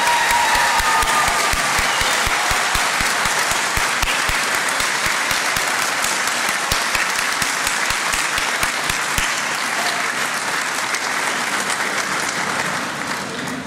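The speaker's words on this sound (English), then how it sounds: "A big round of applause for you all again" A large hall audience gives sustained, loud applause for social care graduates at a college conferring ceremony. The clapping is dense and even, then thins slightly near the end.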